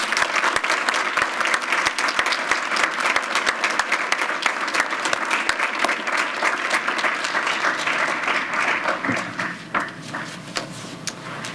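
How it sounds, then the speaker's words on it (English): At a school district board meeting, a roomful of people applauds in a steady, moderately loud patter of many hands, continuing evenly for the whole stretch before thinning slightly. "Let's give them all a round of applause."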